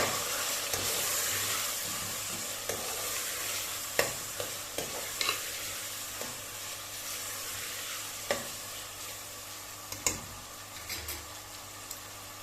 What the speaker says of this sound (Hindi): अब हमने इसको भूनना है।